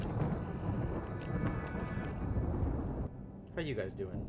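Rain and thunder in the video game RimWorld, a dense hiss of rainfall over low rumbling that drops away abruptly near the end, when a voice briefly speaks.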